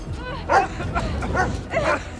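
A dog barks repeatedly, about five sharp, urgent barks in an uneven rhythm, fairly close, amid a tense scene with some background noise.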